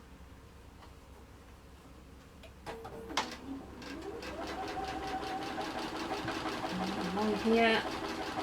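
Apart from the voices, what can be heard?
sewing machine stitching quilt block seams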